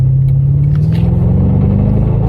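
Mercedes E55 AMG with an aftermarket exhaust pulling hard in third gear, a loud, close, steady engine drone rising in pitch as it accelerates, with no talking.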